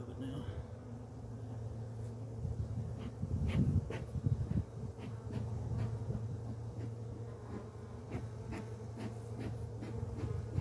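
Honey bees hum around an opened hive during an inspection, a low steady buzz under soft speech, with scattered clicks and handling noises close by.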